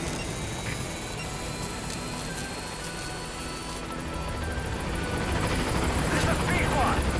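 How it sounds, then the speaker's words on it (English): A video-game helicopter from Metal Gear Solid V arrives at a landing zone, a steady loud rotor and engine roar filling the whole stretch and swelling slightly near the end, with voices talking over it. "Oh yeah, I want to call a helicopter for this."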